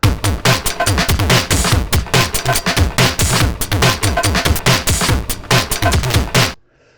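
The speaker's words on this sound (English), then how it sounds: "it's a common trick in drum and bass and other types of breakbeat production to overlay two breaks" Two breakbeat drum loops, one a funky break, layered into one dense, busy rhythm of fast snares and hats, loud and continuous, stopping abruptly near the end.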